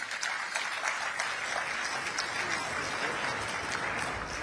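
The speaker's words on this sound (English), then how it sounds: "I think this deserves a round of applause in" Sustained applause from a conference audience for a panel at the COP28 session on emissions and cooling, a dense steady wash of many hands clapping at even loudness throughout, with no voices over it.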